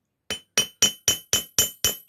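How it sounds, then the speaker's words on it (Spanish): A hammer strikes the metal tip of a handmade crochet hook in eight crisp, evenly spaced ringing taps, each a bright metallic clink decaying quickly, close and alone after a short silence. "esto se martilla encima de la ranurita un poquito"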